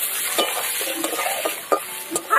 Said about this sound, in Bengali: আলুটা এদিকে লাল করে একটু ভেজে নেবো